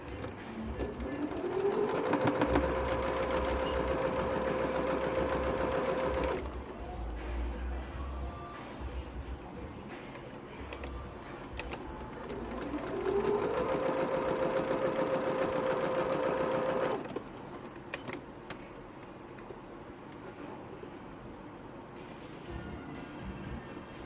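A sewing machine stitches a zip pocket seam with an eighth-inch allowance, running in two long steady bursts with a pause between, close and loud, with faint handling noise in the gaps.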